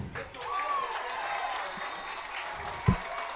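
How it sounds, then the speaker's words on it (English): Spectators at a high school football jamboree clap their hands after a tackle, a scattered, moderately distant patter of applause beneath an announcer's talk, with a sharp thump near the end. "A lot of hand clapping on this side with Kati getting tackled there."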